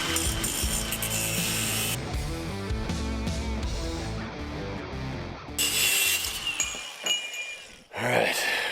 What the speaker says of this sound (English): Can't wait to cut up probably the only new set of headers I'll ever buy in my life.